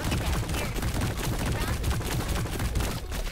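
Dense, continuous gunfire from the video game High On Life, a loud sustained barrage of rapid shots with no breaks, filling the whole moment.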